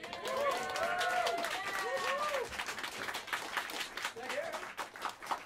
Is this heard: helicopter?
no